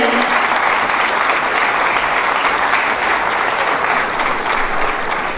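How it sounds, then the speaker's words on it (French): Dense, even applause fills an award ceremony hall at a conference, many hands clapping at once in a steady wash of sound, loud and continuous with no voices standing out. "Sous vos applaudissements, s'il vous plaît."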